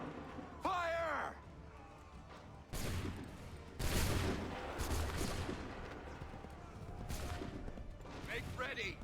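Volleys of musket fire ring out in Assassin's Creed III, several sharp bursts at intervals amid shouting voices and battle noise.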